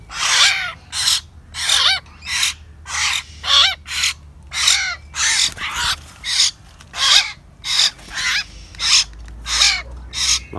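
A young hill myna, kept for sale in Dak Lak, gives about a dozen sharp, raspy calls in a steady rhythm, each a short loud burst, close by and with no talking.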